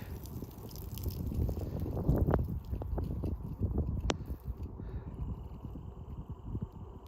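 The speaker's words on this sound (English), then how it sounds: "That wind is cold." Cold wind gusts buffet the microphone on a wet, drizzly trail run, a rough low rumble that rises and falls for several seconds, with faint rustling and small clicks.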